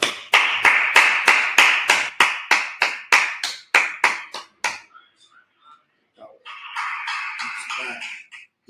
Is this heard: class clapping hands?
yes